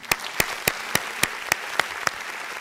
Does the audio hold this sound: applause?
yes